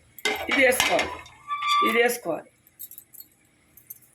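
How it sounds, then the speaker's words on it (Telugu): A metal lid clatters onto a cooking pot of mutton biryani made with coconut milk and chitti mutyalu rice, heard as several close clinks and scrapes of pots and utensils while a person talks over part of it. "మూత పెడదాం దీని మీద."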